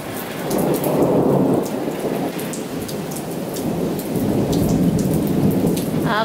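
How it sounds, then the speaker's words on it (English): A thunderstorm rumbles with deep rolling thunder over steady rain pattering on surfaces outdoors. The sound is loud and continuous, with no talking. "I love to listen to the thunder."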